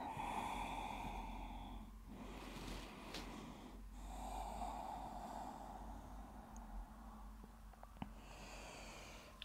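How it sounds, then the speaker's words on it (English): Slow, deep breaths during a prenatal yoga session, several drawn-out inhales and exhales through the nose with soft snorting edges, quiet and close over a faint background hum. "Few deep breaths."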